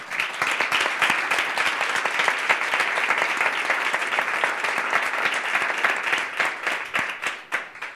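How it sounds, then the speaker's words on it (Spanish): A live audience at a songwriting talk event claps vigorously and continuously for several seconds, a dense, even wash of many hands that thins slightly near the end. "Y aquí nos pido que le demos un gran aplauso."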